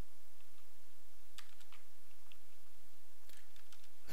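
Computer keyboard typing a search query, with two brief bursts of quick, light key clicks over a quiet room hum, no voices.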